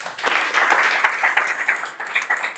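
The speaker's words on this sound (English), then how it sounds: "A big round of applause for that." An audience at a startup talk gives a short burst of applause, a dense wash of clapping hands that holds steady for a couple of seconds and then thins slightly.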